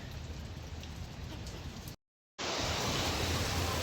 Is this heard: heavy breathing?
no